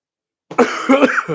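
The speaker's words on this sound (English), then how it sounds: "as I cough up a lung" A single harsh, rough cough bursts out close by, followed by a second raspy cough, with no talking around it.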